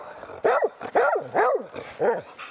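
A dog, a marten-hunting dog, barks four times in quick succession, close and loud, with short gaps between barks.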